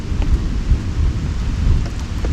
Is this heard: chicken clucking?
no